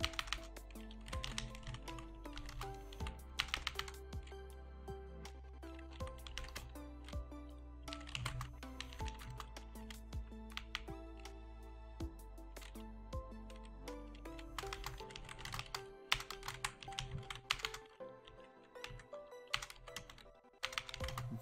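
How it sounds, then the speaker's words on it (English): Rapid keystrokes on a gaming keyboard click steadily and close, in quick irregular bursts over a sustained tonal background hum, with no talking. "It might be a bit louder because I'm using a gaming keyboard"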